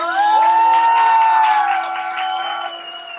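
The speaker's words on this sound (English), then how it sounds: "One more round of applause, y'all!" A summit audience cheers and whoops with applause underneath, loud and sustained throughout before easing slightly toward the end, with bright shouted tones standing out over the crowd noise.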